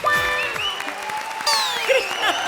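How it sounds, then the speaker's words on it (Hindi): Studio audience applause on a comedy show, loud and lively, mixed with whistles and cheering over the whole stretch. "जोरदार तालियां।"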